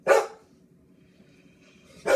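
A dog barks at birds outside a window: two sharp, close barks, one at the start and one at the end, separated by a near-silent gap.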